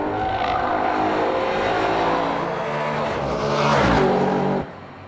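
The 4.1-liter V8 of an Audi RS5 revs loudly and close, a steady rich roar that swells near the end before cutting off abruptly.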